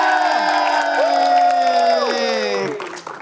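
A lively studio audience at an Indonesian clown show, Aku Badut Indonesia, cheers and applauds loudly for about three seconds. A dense wash of claps and voices stays steady, then fades toward the end.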